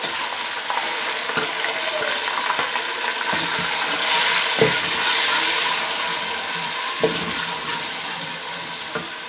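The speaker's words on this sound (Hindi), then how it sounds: "इसको हम अच्छे से फ्राई कर लेंगे।" Chopped onions fry steadily in a pan for a chicken and potato curry, a continuous close sizzle with occasional stirring knocks and scrapes, no voices.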